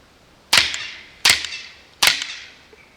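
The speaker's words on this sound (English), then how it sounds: "The only sound that this thing makes with subsonic and the suppressor is the mechanical cycling of the" A .22 caliber rifle fitted with an AR-15 suppressor fires subsonic rounds: three sharp, close cracks with mechanical action noise, evenly spaced under a second apart, with quiet between shots.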